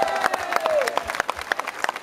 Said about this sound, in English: would you please give a big round of applause to Tim, to Thorsten, and all the guys on sound and lights